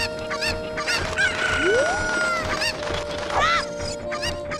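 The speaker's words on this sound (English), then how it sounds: "Oh, catch the chicken. Catch the chicken." A cucco chicken in The Legend of Zelda: Ocarina of Time clucks and squawks in short bursts over steady game music and background ambience, with sharp rising cries near the middle.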